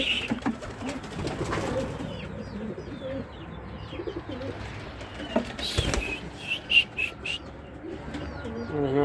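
Pigeons with young birds in a loft, repeated soft coos and some chirps, close and fairly loud over a busy background with faint flutter.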